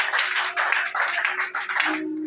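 A church congregation applauding during a service, a brief burst of dense clapping that rises and falls in waves before fading.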